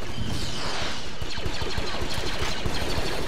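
Rapid blaster and gunfire in a Star Wars Battlefront mod battle at an asteroid mining facility, a dense continuous volley of sharp shots close by with no talk.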